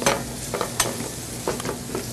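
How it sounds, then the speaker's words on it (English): Chipotle sloppy joe mixture with adobo sauce simmering in a pan, giving a soft steady sizzle with a few brief stirring scrapes and clatters, close and fairly quiet. "you just want to simmer this now for a few minutes"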